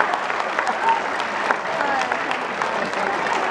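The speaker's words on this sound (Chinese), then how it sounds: "现场热烈掌声" A live show audience at a Christmas event in Las Vegas breaks into warm applause, a steady, dense clatter of many hands heard close and continuous, with faint voices mixed in.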